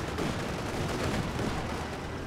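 A loud, dense burst of explosive rumble and crackle as an M20 armoured car is struck by a Panzerschreck rocket in a tank-combat video game, a continuous heavy blast texture filling the short moment.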